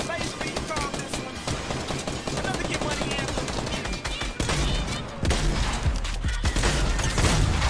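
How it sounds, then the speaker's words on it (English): A minigun in Fortnite fires as a continuous, dense rattle of rapid shots lasting several seconds, loud and unbroken, with gameplay chatter mixed in. "A minigun?"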